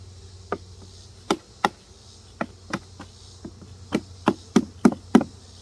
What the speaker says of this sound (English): knock that entrance reducer out so they can get more airflow